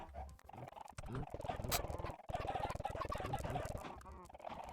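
Chickens clucking and squawking in Minecraft, with a continuous layer of animal calls and game noise, fairly steady and moderately loud.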